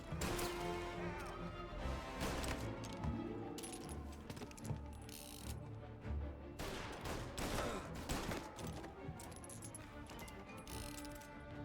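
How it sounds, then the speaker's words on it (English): Gunfire in Mafia: Definitive Edition during a shootout with police, with dense bursts of shots, crashes and debris filling the scene and fairly loud throughout. "They're shooting!"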